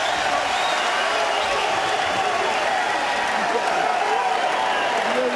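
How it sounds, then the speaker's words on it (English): Boxing arena crowd at Floyd Mayweather's homecoming fight against Phillip Ndou, a steady dense roar of cheering and applause filling the hall throughout, loud and continuous with no clear individual voices. "Crowd and Van Andel up and cheering."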